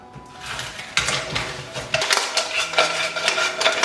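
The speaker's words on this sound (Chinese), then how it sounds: "就把螃蟹放进来翻炒。" Crab is stir-fried in salted egg yolk in a pan, with a spatula scraping and clattering against the metal and the pan knocking in irregular bursts over a soft sizzle, close and fairly loud.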